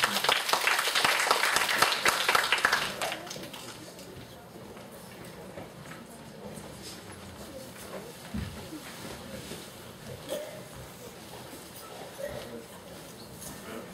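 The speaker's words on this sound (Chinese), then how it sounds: "那我们先鼓掌欢迎第一组同学报告吧" Students in a university sociology class break into lively applause to welcome the first group's presentation. The clapping lasts about three seconds and then drops off into quiet room noise with occasional voices and stray sounds.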